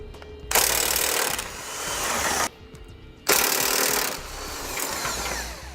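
A power tool such as an impact wrench spins off 21mm subframe bolts at the front of a car, two sustained loud whirring bursts with a short gap between them, close up and with no talking.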